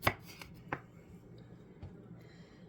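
Knife chopping vegetables on a cutting board during meal prep: a few sharp, separate chops spaced irregularly, close and fairly quiet, with no talking.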